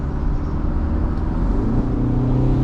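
Mercedes CLE 300 Cabriolet (2024) engine pulling under added throttle in sport mode, a steady, loud low rumble from inside the car with a slowly rising tone and no speech over it.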